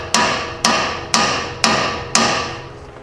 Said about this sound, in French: On va la décoller au gun, on va la décoller au marteau.